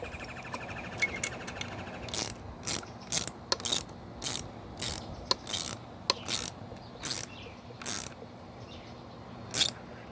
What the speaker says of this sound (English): My torque wrench. Hear my arm go click?